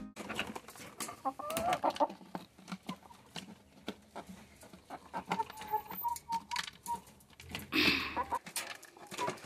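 Chickens at a feeder filled with corn give soft clucks and scattered pecking taps, fairly quiet and irregular, with a brief louder bird call near the end.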